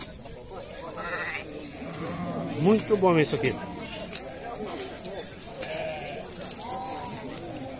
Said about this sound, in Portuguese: estou mostrando para vocês que tem bastante ovelha